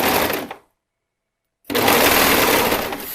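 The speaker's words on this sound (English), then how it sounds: "It's always hard to start out on a serger." A serger sewing machine stitches a V neckline in two loud, close bursts of rapid whirring, separated by about a second of silence.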